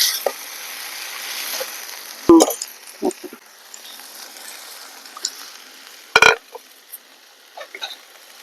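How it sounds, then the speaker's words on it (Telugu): Egg pickle ingredients with curry leaves frying in hot oil, a soft steady sizzle broken by a few sharp scrapes and clatters of stirring, close and alone with no talk. "ఇప్పుడు ఇది నూనెలో వేసి బాగా ఫ్రై చేస్తున్నాం."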